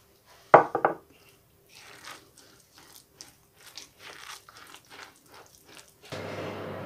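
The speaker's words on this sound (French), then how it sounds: "Et on mélange." Ingredients for a vegetarian garden pepper pâté, seasoned with chipotle Tabasco, are mixed in a bowl: a sharp clatter near the start, then soft, scattered scraping and tapping, ending in a steadier rustle. No talking.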